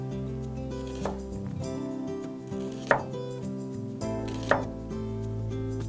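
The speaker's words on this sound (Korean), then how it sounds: "지금 살짝 자를 때 소리를 들어보면은 살짝 눌리는 그런 소리가 있는데" A kitchen knife slices gently through an onion, giving three soft, brief cuts spaced a couple of seconds apart over a steady background hum.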